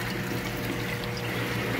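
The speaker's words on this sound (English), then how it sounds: "throw away some of this dirty water." Dirty water sloshes out of a fish shipping bag in a dense, continuous pour lasting a couple of seconds, close and fairly loud, with no voices.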